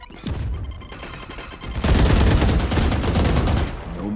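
Sustained rifle fire in Valorant, a quick burst emptying a full magazine, rapid close shots running together for about two seconds after a few earlier sporadic cracks, loud and dense with no talk.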